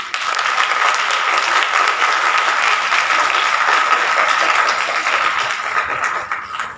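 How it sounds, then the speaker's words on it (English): Sustained audience applause at a school English elocution competition, a dense steady wash of many hands clapping for nearly seven seconds before tapering slightly at the end, with no voices over it. "their hard work to coordinate so beautifully with each other deserves"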